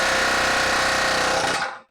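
Loud, rapid metallic hammering on the lower A-arm bushing of a 1959 Chevy Bel Air during a suspension rebuild, a dense continuous clatter of blows that stops abruptly near the end.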